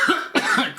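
A person gives two short, harsh coughs close to the microphone, separated by a brief pause, with no speech.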